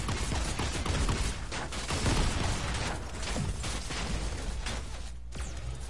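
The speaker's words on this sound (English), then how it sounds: "Now where are they shooting?" Gunfire in the Fortnite video game, scattered bursts of shots and pops rising and falling over several seconds amid noisy game ambience, moderately loud without speech.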